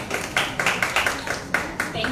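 Audience clapping at a graphic novel book launch event, a few distinct hands clapping unevenly and fairly close, with some talk in the background.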